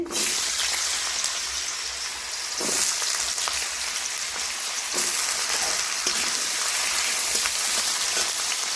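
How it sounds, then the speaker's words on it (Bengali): Potatoes dropped into hot oil in a pan sizzle and fry with a steady, dense crackle, swelling in brief surges as the pieces are stirred, with no talking over it. "তেল গরম হয়ে গেছে আলু দিয়ে দিচ্ছি"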